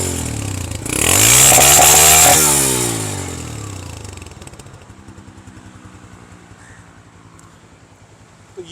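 A Honda CG150 motorcycle's engine is revved hard, rising into a loud buzzing whine, then falls back to a soft, steady low putter at idle. It sounds close, with no speech.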